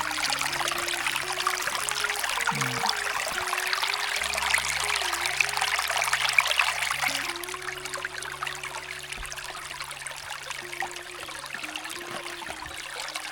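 Clear mountain stream water trickles and splashes nearby while it is collected on a hike, a continuous bright burble that drops a little in level partway through.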